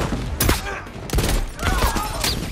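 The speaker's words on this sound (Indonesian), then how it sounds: "suara tembakan bergemuruh di gedung tersebut" Gunfire rattles through a building in the film RED 2, several loud bursts of shots cracking in quick succession over a busy, noisy action scene.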